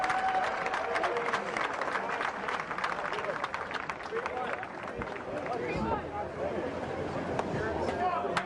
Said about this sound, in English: Round of applause for your consolation finalist in the 50 freestyle.